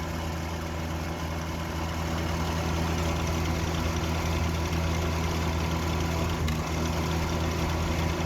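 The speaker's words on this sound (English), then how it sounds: "That's got to be bad for the compressor. It keeps kicking on and off randomly." Compressor of a vintage Eaton Viking dehumidifier running with a steady low hum and drone, constant and fairly loud throughout with no clear start or stop.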